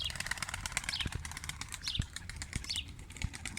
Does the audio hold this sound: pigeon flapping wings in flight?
yes